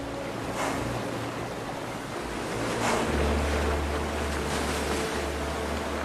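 A strong, fast-flowing river current rushes in a steady, dense roar of churning water, with gusts of wind buffeting the microphone and a louder surge midway through.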